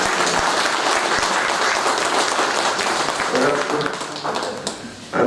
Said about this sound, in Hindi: मैं चाहूँगा कि इनका तालियां बजाकर